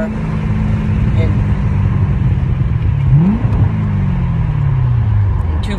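A custom 2009 Chevrolet Corvette C6 drives and accelerates, its loud engine droning low and steady, then rising in pitch partway through before settling back. The sound is close and continuous from start to end.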